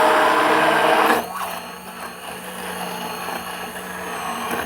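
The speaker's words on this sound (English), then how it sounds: "I'm going to use my handy dandy immersion blender and try not to make a mess" An immersion blender whirs in a pot of pumpkin fudge, a loud close motor drone that drops to a lower, steadier churn after about a second.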